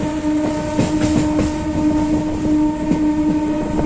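A train rolls along steadily on the Nidadavolu–Narasapur line with a continuous rumble and a faint rhythmic clatter of wheels on track, loud and close, with no voices.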